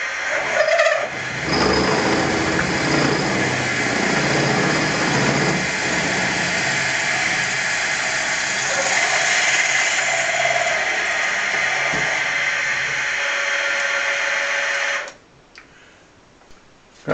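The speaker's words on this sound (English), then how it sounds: "Got it set up to drill the set screw hole." A drill bores a set screw hole in a part for a vertical engine build. A loud, steady whirring runs for about fourteen seconds, then cuts off, leaving near silence.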